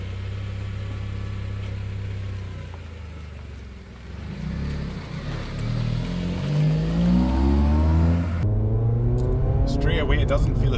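A Honda Civic Type R FN2 with a naturally aspirated K20 engine accelerates from low rumble into rising revs, climbing steadily through a gear change, heard close from inside the cabin with a driver talking.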